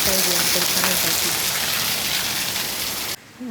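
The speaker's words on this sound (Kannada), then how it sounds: "ಈಗ ಸ್ವಲ್ಪ ನೀರೇ ತುಂಬಿದೆ, ಅಷ್ಟು ಮಳೆ ಬರ್ತಾ ಇದೆ ಇವತ್ತು" Heavy rain pours down steadily as a dense, loud hiss that continues almost to the end, with a faint voice audible beneath it early on.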